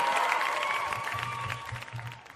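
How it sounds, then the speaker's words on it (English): A crowd applauds, the clapping fading gradually over a couple of seconds, with some voices underneath. "Please give him a round of applause."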